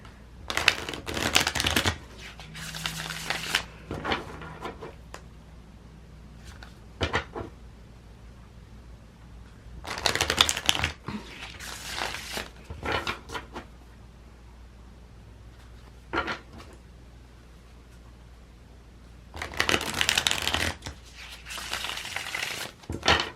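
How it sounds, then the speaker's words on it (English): Tarot cards shuffled in several bursts of close, crisp riffling with quieter handling and card taps in between, no voices. "We'll be shuffling the cards"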